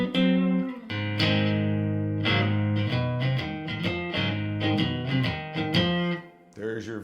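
Electric guitar chords ring out through a vintage Mesa Boogie amp, with a warm, slightly distorted tone and a series of sustained strums that stop just before the end.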